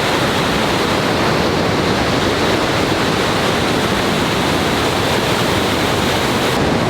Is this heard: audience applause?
no